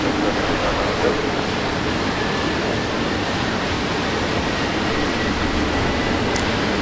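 A Jetstar airliner in new livery landing at Brisbane Airport, a steady broad engine and wind roar heard from a distance, constant in level throughout with no voices.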